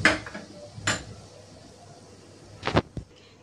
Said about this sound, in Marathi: तर चमच्याने आपण हे सगळं मिक्स करून घेतलं आहे.